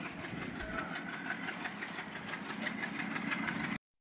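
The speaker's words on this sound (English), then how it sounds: "Now, a diesel loco is waiting for straight track clearance." A diesel locomotive on a railway track rumbles steadily with a rhythmic clatter that holds close and loud, then cuts off abruptly at the end.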